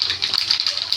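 Mustard seeds hit hot oil while the seasoning for vada pav is made, giving a bright, steady crackling hiss that runs close and loud through the whole second.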